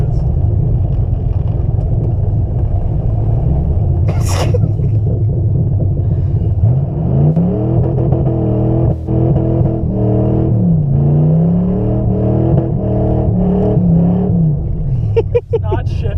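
A beater Panther car's engine rumbles steadily and revs up and down while driving on snow, the loud drone running close throughout with people talking over it.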